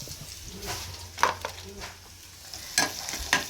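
Onion, tomato and green chili frying in a pan for egg curry, a soft steady sizzle with a few sharp stirring scrapes and clinks, close by.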